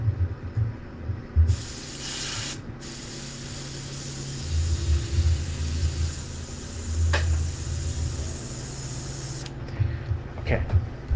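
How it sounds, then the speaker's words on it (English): Airbrush spraying unthinned paint at 18 psi: a steady broadband hiss runs from about 1.5 s to 9.5 s, briefly interrupted near 2.6 s, with low room sounds and handling noises underneath and around it. "I am at 18 psi, and I'm going to start airbrushing."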